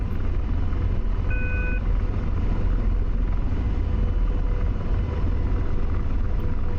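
Simulated AH-64 Apache helicopter in the DCS flight game, a loud, steady low rotor and engine rumble held at a constant level throughout, with a brief high tonal beep near the start.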